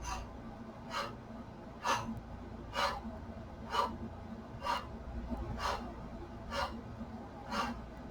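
Loud, forceful breaths pushed out through the mouth during a Pilates mat conditioning workout, coming in a steady rhythm of about one per second, close to the mic over a low background hum.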